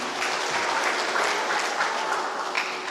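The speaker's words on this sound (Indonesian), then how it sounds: "Tepuk tangan untuk cerita itu." Steady applause from a church congregation at an Easter service in Yahukimo, Papua, dense continuous clapping at moderate volume throughout with no voices standing out.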